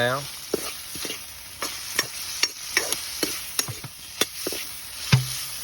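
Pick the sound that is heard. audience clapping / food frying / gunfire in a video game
food frying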